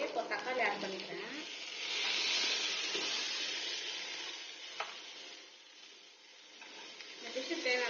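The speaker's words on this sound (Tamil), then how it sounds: "வெங்காயம் நல்லா வதங்கிடுச்சு. இப்போ தக்காளி ஆட் பண்ணிக்கிறேன்." Sautéed onions with freshly added tomatoes sizzle and hiss in a pan for a Tamil vada curry, a steady broadband fry that swells in the middle with occasional stirring clinks, faint voices underneath.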